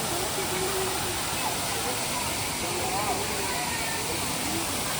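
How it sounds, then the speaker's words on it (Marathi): A steady, dense roar of rushing water fills the scene, with faint voices from people nearby mixed into the constant noise. "आणि हा आपला धबधबा"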